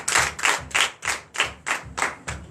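A church congregation in Benin claps in steady unison during a Sunday worship service, about eight sharp, evenly spaced claps ringing out loud and close with no voices over them.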